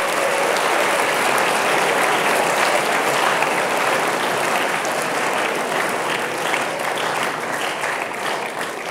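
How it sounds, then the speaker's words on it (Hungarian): Sustained applause from a classroom audience fills the whole stretch, dense and steady clapping at close range, rewarding a student's correct answer during a climate lesson given by the Hungarian president. "úgyhogy tapsoljuk meg."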